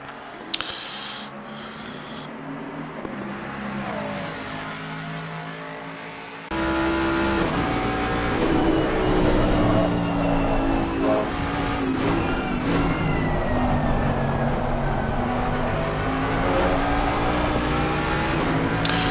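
GT race cars in Assetto Corsa Competizione snarl through a braking zone and a combination of corners, engines downshifting with falling pitch, then a louder pack accelerating hard with rising revs, close and continuous, with no voices.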